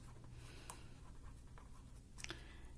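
Pen strokes on paper as notes are written down during a physics lecture on energy bands in semiconductors, faint scratchy strokes with a few sharper ticks over a low room hum.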